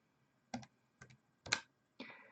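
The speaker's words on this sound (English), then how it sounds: "I'm going to quickly just type this into my calculator" Four separate button presses on a calculator are keyed in one at a time, each a short distinct click about half a second apart, close and clear against near silence.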